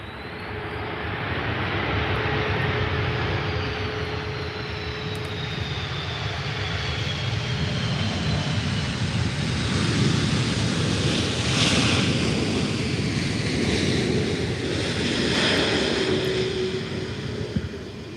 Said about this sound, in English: So that was the big second Aer Lingus A330 of the day.